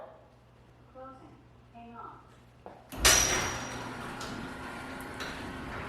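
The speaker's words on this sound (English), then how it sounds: "Close the garage door." A motorized garage door rumbles and rattles as it closes, starting abruptly after a few beeping tones and a low hum, with occasional clanks.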